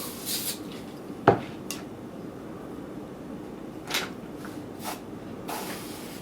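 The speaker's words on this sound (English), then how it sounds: "I'll use a little spray starch." Short hissing bursts of spray starch misted onto fabric before ironing, several brief sprays spaced apart with a small knock among them, close and quiet, no talking.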